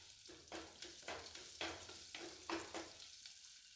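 Mustard seeds, fenugreek and ginger frying in a pan for a chembelli fish curry, with a crisp sizzle broken by a steady rhythm of stirring scrapes, close and alone.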